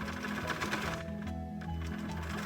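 A sewing machine stitching a lined drawstring bag with bright pink thread, a close rapid mechanical whir of the needle that eases off briefly midway before running on steadily.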